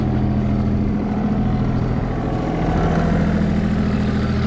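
A used Yanmar mini excavator's diesel engine runs steadily nearby, a loud continuous rumble with a low droning hum and no pauses.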